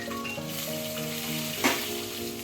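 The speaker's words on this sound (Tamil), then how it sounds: "இது நல்லா வதங்கட்டும் உளுந்து நல்லா பொன்னீரும் வரட்டுங்க" Urad dal and mint sauté in a pan for a mint thuvaiyal, giving a close, even sizzle. Halfway through comes a single brief knock or stir, and no one speaks.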